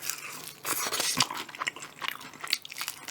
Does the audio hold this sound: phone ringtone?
no